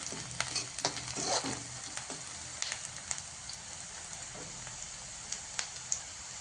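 Chopped onions sauté in a pan for egg bhurji, giving a low, even sizzle with scattered crisp scrapes and taps from a spatula turning them. No one speaks.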